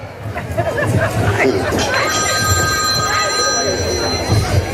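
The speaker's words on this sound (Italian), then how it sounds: "Ah, scusa il telefono." A telephone bell rings with steady, sustained trilling tones over the background chatter of a small crowd, several voices talking throughout.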